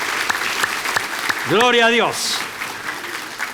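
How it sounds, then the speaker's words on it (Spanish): A church congregation claps for Peru in steady broadband applause throughout, while a voice rises in a sung or shouted exclamation in the middle. "Le vamos a dar un fuerte aplauso a nuestro Perú"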